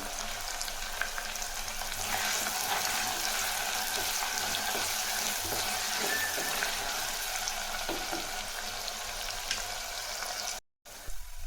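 Green chillies fry in oil in a pan for a village-style fish curry, giving a continuous close sizzling hiss with light stirring scrapes and a brief cut near the end.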